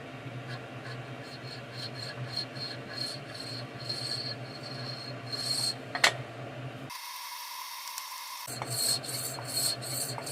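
Fast rhythmic rasping strokes of hand-cutting a part of a ship model, close and steady, briefly stopping before resuming.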